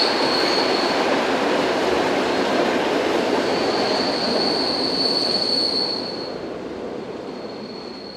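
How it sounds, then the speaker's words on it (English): PKP EN71 four-car electric multiple unit pulling into a station, loud continuous rolling rumble with a sustained high wheel squeal and brake hiss, fading slightly as the train slows. "The EN71s are a 4-car version of the EN57s. This one arrives with a service to Sedzijów."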